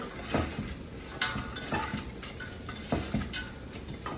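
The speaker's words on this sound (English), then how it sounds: "Give that a stir." Onions sizzling in a hot pot while a spoon scrapes and stirs, with clanks against the metal at irregular moments; nobody speaks.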